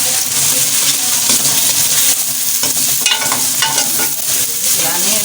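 Chopped onions fry in a pan for baingan ka bharta, a steady loud sizzle with stirring scrapes running through, close up and with no talk.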